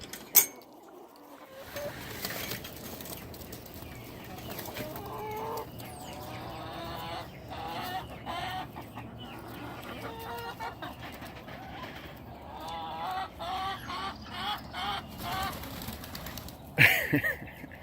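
Chickens in a backyard coop cluck and squawk in scattered, overlapping calls, with occasional louder bursts and rustling over a quiet morning background, fairly close by.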